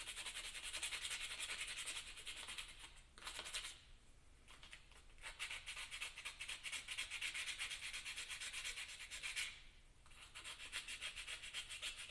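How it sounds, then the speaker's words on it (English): Sandpaper rubbing on a model car body for tabletop vehicle combat, a steady close scratchy back-and-forth swishing in continuous strokes with two brief pauses, no talking. "I'm probably mostly going to stick with the sandpaper."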